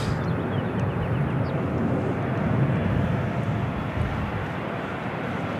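An airplane at LAX airport roars steadily, a broad continuous jet rumble holding at even loudness throughout with no voices.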